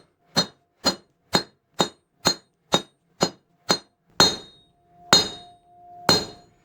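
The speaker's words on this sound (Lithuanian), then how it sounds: "čia ant to priekalo taip kaliau ir tokį kaip ir griovelį padariau" Hammer blows ring out on a metal leaf being forged on an anvil by a blacksmith, eight quick evenly spaced clangs followed by three heavier, more resonant strikes with lingering ring, close and alone.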